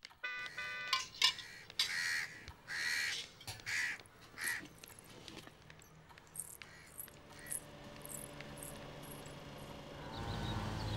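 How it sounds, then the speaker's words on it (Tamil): A crow caws repeatedly in short harsh bursts, fairly close, then quieter background noise follows with no talking. "கார்த்தாலேந்து ஒரு காக்கா கத்தின்னு இருக்கு பாருங்க"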